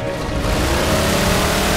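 The Warthog's engine in Halo 4 drones steadily and loudly, a constant motor roar with no breaks.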